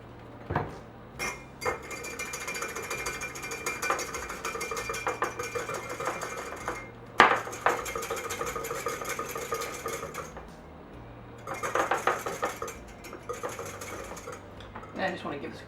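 A whisk beats a red wine vinegar and olive oil dressing in a bowl, making rapid rhythmic clinking in bursts separated by short pauses, with occasional sharper knocks.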